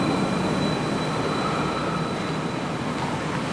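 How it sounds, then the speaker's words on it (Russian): A tram rumbling past nearby on a Munich street, a continuous loud rolling drone of rail wheels with a faint high whine throughout. "Вокруг меня ездят трамваи"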